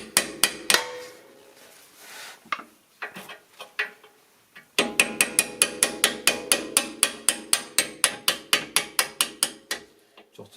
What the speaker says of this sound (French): Un coup de marteau, hop.